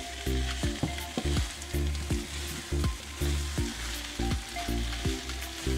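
Chicken upperi sizzling hard in a hot pan and stirred with a spoon, with a steady frying hiss and regular scraping stir strokes about once per second, loud and close with no talking.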